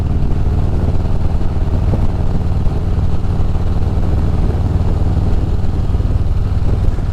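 Harley-Davidson Road Glide motorcycle riding, a steady, loud low engine rumble with continuous road and wind roar, no voices.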